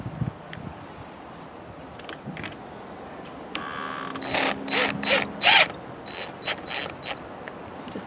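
A ratchet clicks in short bursts of rapid ticks while tightening bolts during installation of a remote-controlled RV lock, close and fairly quiet, with some handling noise between bursts.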